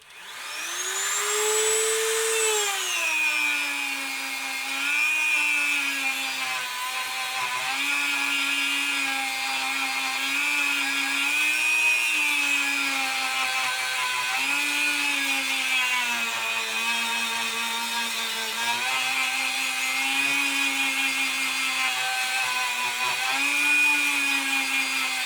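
A steady, loud mechanical whine of a sanding drum grinding wood while porting a Kirst Konverter, droning continuously with slight pitch dips as the load shifts, no voices.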